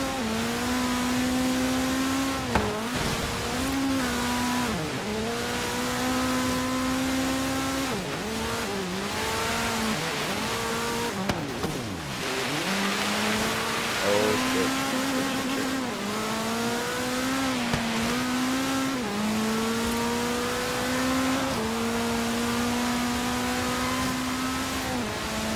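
Race cars roar continuously in Forza Horizon 3 on a snowy mountain course, with loud engines whose pitch climbs and drops repeatedly through gear changes, plus occasional tire squeal, all close and unbroken.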